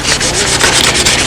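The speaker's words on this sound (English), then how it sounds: "I'm sanding this dry because I don't want the M600 going around under the tape" Dry 600-grit sandpaper rubs over the painted surface of a model Spitfire in quick, steady back-and-forth strokes, a loud, close, rhythmic scratchy hiss with no talking.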